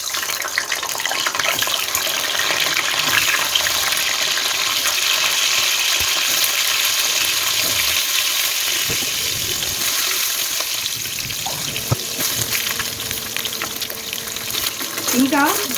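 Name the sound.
eggs frying in mustard oil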